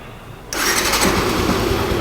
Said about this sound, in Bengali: এবার চেষ্টা করবো বাইকটা স্টার্ট করে আপনাদেরকে ইঞ্জিন সাউন্ডটা শোনানোর